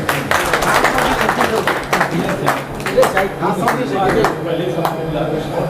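An audience at a friendly gathering of B.Ed graduates in Malegaon bursts into sustained applause, dense overlapping hand claps with scattered louder smacks, fairly close and continuous throughout.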